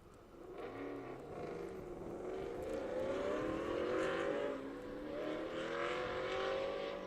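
Race cars accelerating hard down the straightaway at Thunderhill during a Peak Performance Challenge drag-style run, engines rising steadily in pitch as they pull away, loud and sustained for several seconds with crowd-level background noise.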